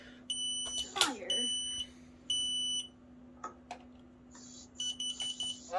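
A Kidde Trusense 2070-VASCR smoke and carbon monoxide alarm sounds during a test, emitting short bursts of piercing electronic beeps in a repeating pattern, with people talking nearby.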